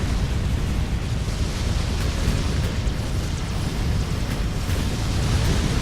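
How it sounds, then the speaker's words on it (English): Armor-piercing rounds strike spaceships in the space strategy game Sword of the Stars, a continuous heavy rumble of impacts and explosions with faint crackling hits layered over the loud, unbroken low roar. "These are, I think, armor-piercing rounds I'm seeing hit our ships."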